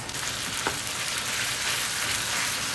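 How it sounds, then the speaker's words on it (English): Ground beef frying with onion and garlic in a pan gives a continuous, dense sizzle, close and steady, with a brief sharper crackle early on. "Cook the ground beef for 8 to 10 minutes. Allow it to cook through until it starts to brown."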